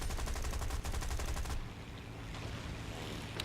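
Rapid automatic gunfire and artillery in War Thunder, dense rhythmic bursts for over a second, then giving way to a softer rushing, washing background.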